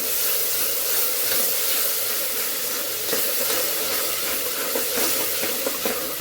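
Steady, close sizzling and hissing of tomatoes sautéing in a hot pan for pav bhaji, continuous throughout with occasional faint crackles and no talking.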